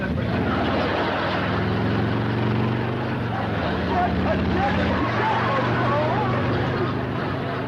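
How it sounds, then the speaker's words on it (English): A motorcycle engine drones steadily and loudly, ridden around and into a house, with a shifting pitch and background voices and commotion throughout. "Some crazy kid is racing up down your driveway on a motorcycle."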